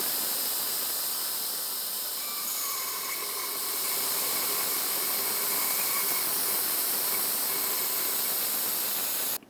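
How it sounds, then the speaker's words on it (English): A fluid extractor draws old brake fluid out of the master cylinder reservoir of a 2015-2019 Subaru Outback, giving a steady, close airy hiss that holds constant for several seconds and then cuts off abruptly. "we can use a fluid extractor. Now I have this hooked up, I'm going to take my hose and bring it down inside the reservoir here"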